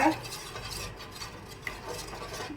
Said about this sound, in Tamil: இதை நல்லா கிண்டிக்கிட்டே இருக்கணும்.